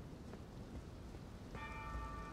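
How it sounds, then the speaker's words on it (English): Steady, faint rain falls across an outdoor area in Elden Ring, a soft continuous hiss with a low rumble beneath and no voices. "No, it's just raining."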